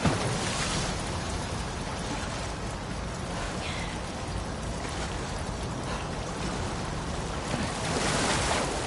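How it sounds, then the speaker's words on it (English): Fast-flowing torrent of water rushing through a flooded sewer in The Last of Us Part II, a steady, dense roar of churning water that stays loud and unbroken throughout, swelling slightly near the end. "the player was faced with a fast-flowing torrent of water they couldn't cross"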